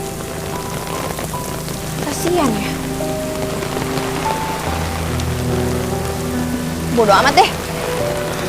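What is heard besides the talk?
rain falling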